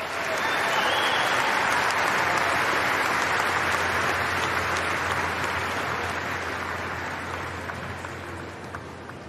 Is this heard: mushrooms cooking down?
no